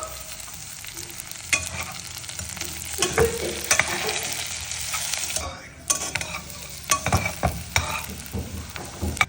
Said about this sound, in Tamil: இப்போ வதக்கணும்